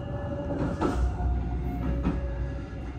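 A Purwojaya passenger train in Indonesia rolls along steadily near Cirebon Kejaksan station, a continuous low rumble of wheels and carriage noise with a couple of brief rattling surges.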